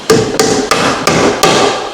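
A hammer taps a split door jamb into place for a pocket door, five loud, evenly spaced, ringing knocks in under two seconds, close up and with no talking.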